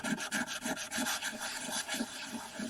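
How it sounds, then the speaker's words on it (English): A worn 240-grit sandpaper pad is rubbed back and forth on a model part, giving quick, even rasping strokes about four per second, close and steady with no talk. "using a used sandpaper pad can actually be very beneficial"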